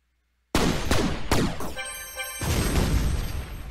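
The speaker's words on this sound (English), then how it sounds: "I'm going to shoot... Palm right in there." Palm weapon shot in Shell Shock Live, a loud burst of explosive blasts: several rapid booming impacts, a brief ringing tonal sweep, then a sustained roaring detonation, close and dense with no talking.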